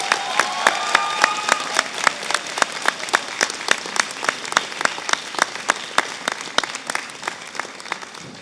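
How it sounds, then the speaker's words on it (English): Graduation audience of friends and family applauding, a steady wash of many hands with sharp individual claps standing out in a fairly regular pattern throughout, close and moderately loud, with no speech. "What I notice is many friends and family clapping themselves"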